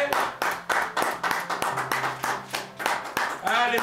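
A church congregation claps together in steady rhythmic unison to acclaim the Lord, loud and close, with the beat continuing evenly throughout.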